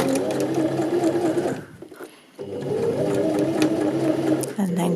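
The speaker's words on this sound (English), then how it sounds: "So starting there, a few stitches in reverse," A sewing machine stitches in reverse along a fabric sweatshirt cuff, running loud and steady, pausing briefly, then resuming its close, continuous whirr.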